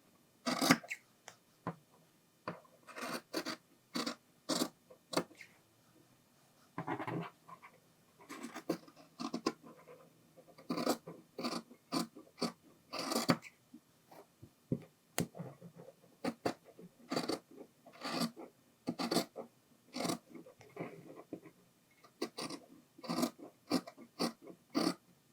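Scissors cut through glove fabric in quick bursts of crisp snipping and scratchy sliding, close and fairly quiet, with short pauses between runs of cuts.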